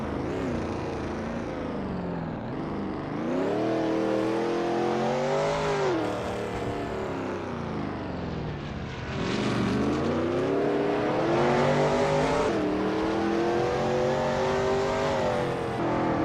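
A Veloce GTS-8 race car in a racing video game laps the Palmadero circuit, its engine droning loudly and continuously, pitch climbing and dipping through gear changes and corners with steady tire whir and no voices.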